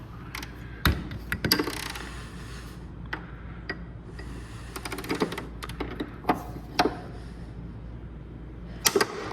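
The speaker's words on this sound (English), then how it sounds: "There, you heard that? It was either the bolt breaking or it broke loose." A hand ratchet and breaker bar work a bolt loose on a Honda HRX 217 push mower, giving irregular sharp metallic clicks and ticks close by, with scattered louder snaps.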